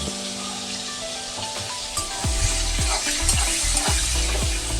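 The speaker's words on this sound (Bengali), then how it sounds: "এই চিংড়ি মাছগুলো তেলের মধ্যে আমি দিয়ে দিচ্ছি" Shrimp with turmeric and salt fry in hot oil, a continuous crackling sizzle joined by several sharp stirring clacks against the pan in the second half, no voices present.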